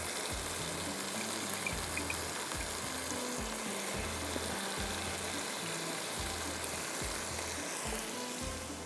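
Shrimp frying in a pan for a Madrasi-style curry, a steady loud sizzle with a rhythmic low thumping of stirring or pan movement repeating roughly every half second, no voices.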